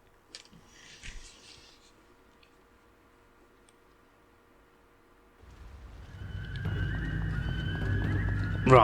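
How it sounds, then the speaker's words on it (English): Hooves of a horse and cart in the video game Genji: Days of the Blade, a faint clatter early on followed by near-silence, then a louder rumbling of wheels and hooves building toward the end. "What has that stupid horse and cart got to do with anything?"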